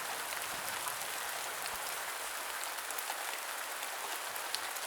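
Steady rain falls on a surface at a lakeside wetland centre, a dense, even patter with occasional louder drops, continuous throughout with no voices.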